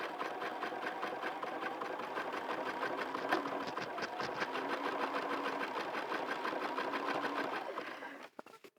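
A sewing machine stitches round and round on a hat crown, its rapid steady needle chatter running loud and continuous for most of the stretch before cutting off near the end.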